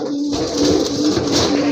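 Large pigeons kept for sale, including a deep red-marked hen, coo in a low, continuous rolling murmur close by, with a steady hum running underneath and no voices.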